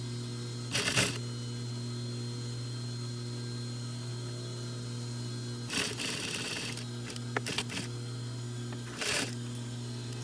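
A sewing machine stitches a zipper fly onto jeans in three short bursts of rapid mechanical clatter, near and clear, separated by pauses filled with a steady electrical hum.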